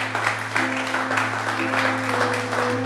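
Church congregation at a French-language pastor's service clapping in a steady rhythmic beat for about three seconds, with a sustained organ or keyboard drone beneath the claps.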